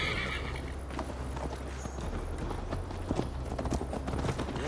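Horse hooves clip-clop steadily at a riding pace in Assassin's Creed Valhalla, with an occasional whinny over a low, continuous game soundscape.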